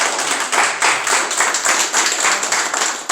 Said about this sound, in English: Let's give him a hand clap today.